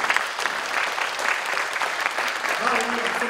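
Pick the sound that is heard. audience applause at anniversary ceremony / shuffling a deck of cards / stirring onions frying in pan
audience applause at anniversary ceremony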